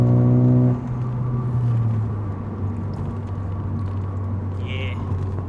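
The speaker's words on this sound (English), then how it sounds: "it's what downshift sound like in the cabin" Ford Focus ST with an AWE Track Edition exhaust downshifting, heard from inside the cabin: a brief blip of harmonic engine tone at the start that drops into a steady low rumble, with faint talk in the background.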